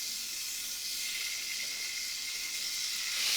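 Chicken livers fry in a very hot, smoking pan, giving a steady, bright sizzle and hiss that holds level throughout and swells slightly at the end, with no talking.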